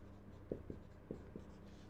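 Chalk or marker strokes on a board while verb forms are written in a classroom lesson: four short, quiet scratches, soft and close, with no speech.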